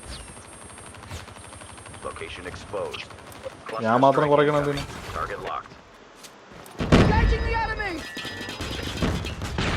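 Gunfire from the Call of Duty Mobile battle royale game comes in scattered sharp bursts among in-game sound effects and tonal cues, while a person talks over it.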